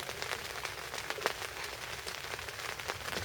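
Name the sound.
rain falling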